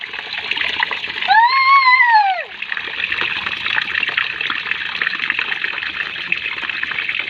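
Water splashes and hisses steadily onto potted plants on a rooftop, a continuous near spray with a brief voice cry rising over it early on.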